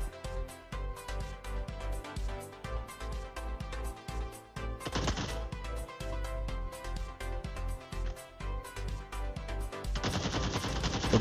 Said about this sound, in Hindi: हमें यहाँ पे गोलियाँ भी पड़ रही हैं